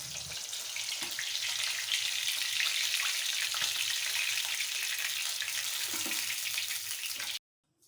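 Pabda fish frying in hot oil, prepared Bengali style: a loud, steady broadband sizzle with crackling pops that runs unbroken for about seven seconds, then cuts off abruptly into near silence.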